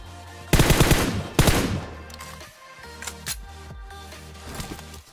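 Rapid automatic gunfire in PUBG Mobile, two sharp loud bursts close together early on, followed by quieter scattered shots and clicks over a low background music bed.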